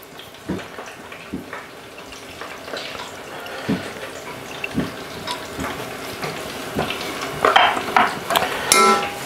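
Cheese and onion pie filling stirred in a pan, repeated scraping and knocking of a spoon over a soft sizzle, growing busier and louder toward the end, with a hint of running water.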